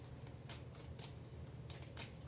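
Tarot cards are shuffled by hand in a quiet room, giving repeated soft riffling bursts about every half second over a low steady hum.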